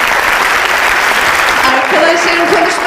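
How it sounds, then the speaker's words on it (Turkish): Loud, dense audience applause from a university back-to-school crowd fills the stretch continuously, with faint voices mixed in near the end. "Alkışlar oradan bir yerden."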